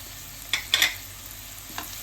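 Onion with turmeric and chili powder is stirred in a frying pan for an okra dish: a couple of quick scraping strokes over a faint, steady sizzle, close and brief.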